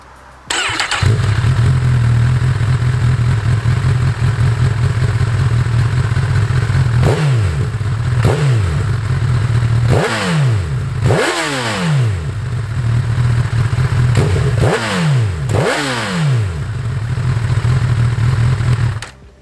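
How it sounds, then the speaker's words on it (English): A 2021 Honda CB1000R Black Edition, a Euro 5 compliant naked bike with a large stock exhaust, starts up and idles with a deep burble, then is blipped through a series of sharp, loud revs that rise and fall, close by. "With the bike being a Euro 5 compliant bike, you do get this monstrous exhaust"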